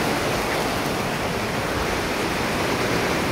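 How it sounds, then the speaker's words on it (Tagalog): Dense, steady roar of heavy afternoon rainfall on a house, a constant loud hiss filling the whole clip with no pauses or voices. "Lakas ng ulan, no?"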